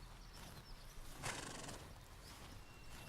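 A horse in the video game Pillars of the Earth whinnies once in a short, bright burst, with soft ambient noise before and after.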